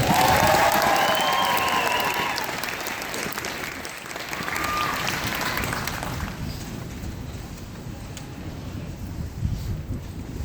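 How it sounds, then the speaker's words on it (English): Audience applause for awardees at an Army infantry basic training graduation, loud and dense at first, then easing into a softer, thinning patter with some outdoor wind noise. "please join us again in giving these fine awardees a round of applause"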